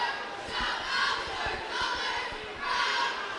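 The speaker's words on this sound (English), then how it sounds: "This Westport crowd can get very hyped." Basketball crowd in a gym at a Westport game, cheering and roaring in swelling waves that rise and fall over a few seconds, loud and continuous with no single voice standing out.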